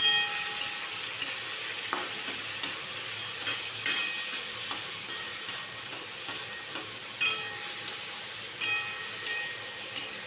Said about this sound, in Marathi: हा आता हा कांदा आहे ना चांगला भाजून द्यायचा